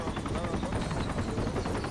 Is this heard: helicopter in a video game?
yes